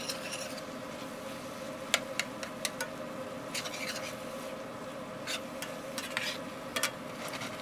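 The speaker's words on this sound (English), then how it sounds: "I can fry and sear the meat a little bit" Steady sizzling hiss of meat searing in a hot pan over a forge, with occasional clicks and scrapes of a utensil.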